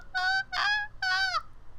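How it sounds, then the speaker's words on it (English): Three quick nasal, honking bird-like calls ring out in close succession, loud and near, with a short trailing squawk and nothing else behind them. "That sounded like a bird."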